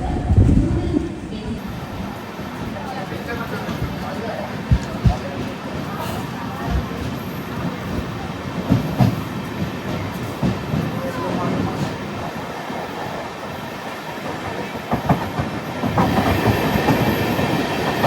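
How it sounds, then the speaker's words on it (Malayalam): Amrit Bharat Express passenger train running on the rails near Kuttippuram in Kerala, a steady loud rumble with rhythmic clatter of wheels over rail joints, heard from inside the coach with faint voices in the background. "നമ്മുടെ അമൃത ഭാരത് അങ്ങനെ തിരുനാവായ കഴിഞ്ഞിട്ട് ഇപ്പോൾ കുറ്റിപ്പുറം അടുത്തുകൊണ്ടിരിക്കുകയാണ്"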